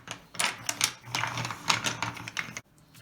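A pile of 100 wooden toy blocks is handled, giving rapid clattering clicks and knocks in close, irregular bursts that stop suddenly toward the end.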